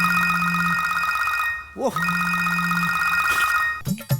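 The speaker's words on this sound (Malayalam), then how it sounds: "ഫോൺ അടിക്കുന്നു" An electronic phone ringtone plays loudly and steadily, pausing briefly partway, with short vocal sounds breaking in.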